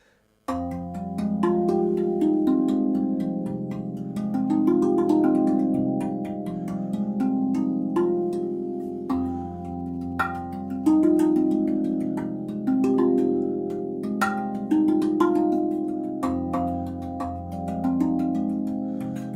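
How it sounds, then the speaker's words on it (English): A Rav tongue drum struck by hand rings out in overlapping warm, resonant tones, a steady flowing melody with soft percussive taps on each note. "So this is the rav when you're playing it with your hands."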